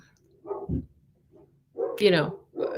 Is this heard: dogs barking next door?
yes